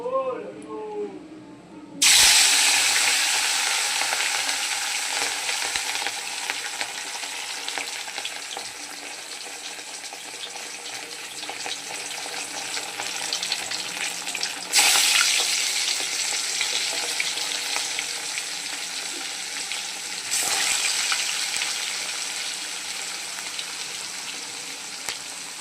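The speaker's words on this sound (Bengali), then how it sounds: "মাছটা আমার ভাজা হচ্ছে।" Rohu fish pieces fry in hot oil in a home kitchen, a loud continuous sizzle bursting in suddenly and holding steady, with sharper crackling flare-ups now and then and a voice speaking quietly underneath.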